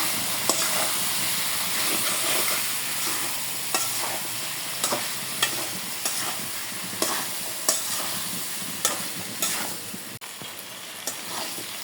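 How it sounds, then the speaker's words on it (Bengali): Steady sizzling from a hot pan with regular scraping strokes as spices are stir-fried and tossed, close by, with no talking. "এই যে আমি মশলার সাথে প্রায় পাঁচ মিনিটের মতো নাড়াচাড়া করে একদম ভাজা ভাজা করছি"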